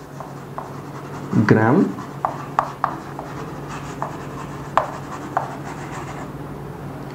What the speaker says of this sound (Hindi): इधर मैं लिखता हूं ग्राम एटॉमिक मास